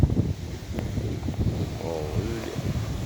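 Strong storm wind roars in gusts and buffets the microphone with a deep rumble, while a voice briefly murmurs under it.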